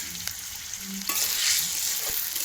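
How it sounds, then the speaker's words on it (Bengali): Potato fries in oil with slit green chillies and crushed garlic. There are a few stirring knocks, then a louder, bright sizzle swells up close about halfway through. "তো কাঁচা লঙ্কা ফালি করা আছে, রসুন থেতো করা আছে, এর সঙ্গে ভাজা হবে।"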